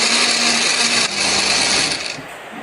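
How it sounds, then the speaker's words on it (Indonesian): A kitchen blender whirs loudly and steadily as it purees a garlic and spice paste with a little water or oil, then slows and cuts off near the end. "Di sini aku menghaluskannya menggunakan blender."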